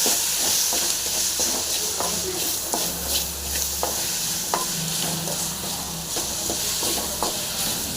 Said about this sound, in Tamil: இதையும் போட்டு அதை நல்லா வந்து ஃப்ரை பண்ணிக்கலாம்